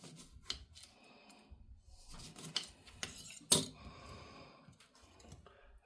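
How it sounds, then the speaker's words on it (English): A knife slices on a cutting board with scattered close taps and scrapes, a louder knock near the middle, and quiet gaps between the cuts. "We'll cut ourselves a couple of slices."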